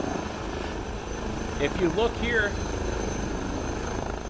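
An Airbus H160 helicopter in Microsoft Flight Simulator gives a steady, droning engine and rotor hum that carries evenly throughout, while someone talks over it.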